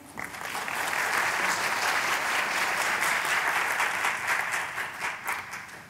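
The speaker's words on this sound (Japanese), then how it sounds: "どうぞ大きな拍手でお迎えください。" A large conference audience at a Tokyo tech summit session breaks into applause that swells in, holds as a broad, even roar of clapping, and tapers slightly at the end, heard somewhat distantly in a big hall.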